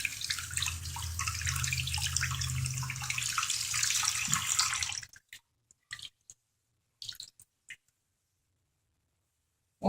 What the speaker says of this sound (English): you just want to run cool water over the chemical burn